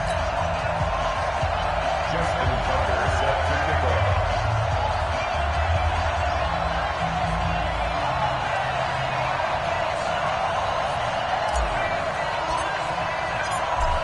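Steady stadium crowd roar from the EA Sports NFL game on PS4, with the Dallas Cowboys facing the Washington Redskins, holding loud and continuous for the whole stretch under a low broadcast-style hum.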